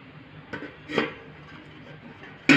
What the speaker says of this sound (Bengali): আস্তে আস্তে করে এই বাটির উপরে প্লেটটি ভালোভাবে বসিয়ে দেব